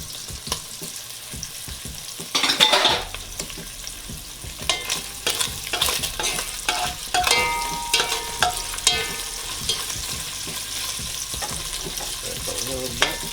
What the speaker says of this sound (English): Here I got 2 tomatoes with my veggies mixed, ready to dump on them.